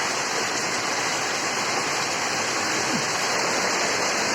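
Heavy rain falls in a dense, constant roar that stays loud and unbroken throughout, with no clear voices over it.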